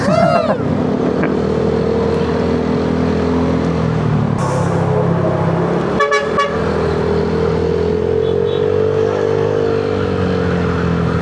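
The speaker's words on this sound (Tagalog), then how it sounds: "Nakakabing yung busina niya." A car horn blares loudly in a long sustained honk, then a second short burst of honking, over the steady drone of a vehicle engine.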